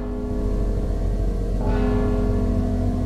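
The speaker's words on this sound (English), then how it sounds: "Don't you hear the bell?" A bell tolls steadily in the stealth video game Mark of the Ninja, a sustained metallic ring layered over a constant low drone, with no voices.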